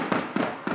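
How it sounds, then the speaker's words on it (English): Fireworks pop in three quick bursts behind a minor-league baseball radio broadcast, loud crackling booms spaced evenly and sounding close. "Again, fireworks going on behind me."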